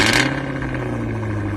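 Exhaust of a Cadillac Escalade V with a supercharged 6.2-litre V8, a deep, loud, steady rumble with a throaty low hum, opening with a brief sharper burst.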